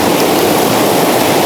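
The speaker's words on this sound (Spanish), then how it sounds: "El río de Pumachaca." The Pumachaca river near Tapo, Huaribamba, rushes past in a steady, close hiss of flowing water with no gaps and no voices.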